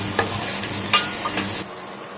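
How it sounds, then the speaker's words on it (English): Chopped garlic and onion sauté in melted butter with a soft, steady sizzle, close by, and a couple of brief stirring scrapes over the gentle frying hiss. "I am going to add one medium-sized onion chopped in this and I will continue sauteing"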